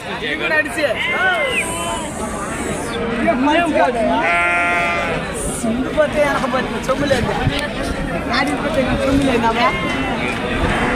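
Sheep bleat repeatedly among a noisy crowd at an outdoor sheep market in Kunta, Prakasam, Andhra Pradesh, with loud overlapping voices and general market bustle throughout.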